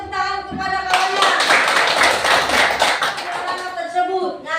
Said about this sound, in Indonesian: silakan tepuk tangan kepada kawannya